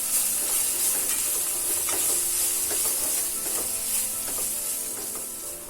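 Masala for bread masala, seasoned with chaat masala and salt, sautés in a hot pan with a loud, steady hiss and sizzle and faint stirring taps underneath.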